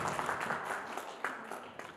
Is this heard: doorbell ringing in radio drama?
no